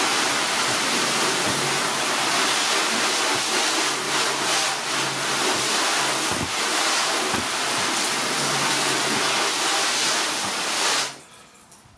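Water from a hose spraying steadily over a car bonnet during a wash, a continuous loud hiss and splash with no talk, cutting off abruptly near the end.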